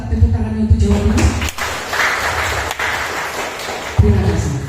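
An audience at a regional innovation presentation in Bondowoso applauds for Jawa Timur, a dense sustained clapping that swells for several seconds between stretches of amplified speech.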